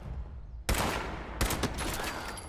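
Gunfire in Fallout 76 at the Morgantown Trainyard: two sharp, loud shots roughly a second apart, each trailing into a noisy rumble of game sound.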